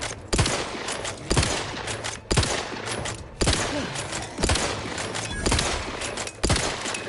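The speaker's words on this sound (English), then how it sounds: "stand in front of somebody that's firing a gun" Steady gunfire in The Outer Worlds 2, with loud repeated bursts of shots at roughly one-second intervals, close and dominant with no talk over them.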